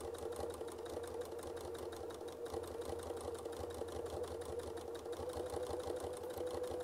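A sewing machine hums steadily and fairly quietly while stitching a curved line on a quilting kit, with a fast, even mechanical pulse and no pauses.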